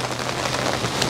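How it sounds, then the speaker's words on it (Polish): Heavy downpour during a windy storm beside a fishing spot on the water, a dense, loud, continuous hiss of rain striking surfaces with no talking. "A jak wieje wiatr, to by mi tu zacinało tą wodę bardzo mocno, ten deszcz."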